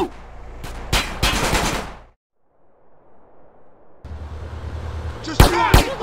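Gunfire in GTA San Andreas: loud rapid shots and dense bursts, then a near-silent pause, then more firing capped by sharp, punchy blasts.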